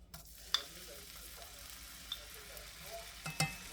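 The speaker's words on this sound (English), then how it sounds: "I'll let this saute in the butter for just a minute" Two teaspoons of minced garlic sizzle in melted butter in a pan, a steady soft crackle with a few light utensil taps over it.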